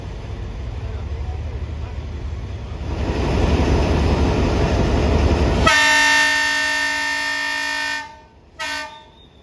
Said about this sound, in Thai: ขบวน 456 ออกจากช่องทางอาดใหญ่ครับ